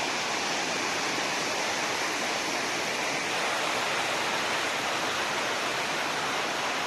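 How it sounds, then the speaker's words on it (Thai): Khao Chamao waterfall, a low cascade in a national park in Rayong province, Thailand, roars in a dense, unbroken wash of falling water, loud and close with no voices. "อุทยานแห่งชาติน้ำตกเขาชะเมาครับจังหวัดระยอง"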